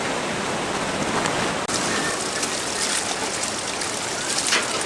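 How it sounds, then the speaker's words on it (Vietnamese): A mountain stream where locals pan for gold rushes steadily and loudly, a continuous broad watery roar close by with one brief sharp knock partway through. "con suối người dân hàng ngày vẫn ra đây đãi vàng."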